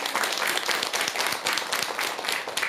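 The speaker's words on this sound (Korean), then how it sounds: "좋은 질문 해주신 보살님께 큰 박수 한번 주세요." Applause from a gathered audience at a Buddhist dharma talk, a dense, even patter of many hands clapping at moderate volume, continuous for a few seconds with no talk over it.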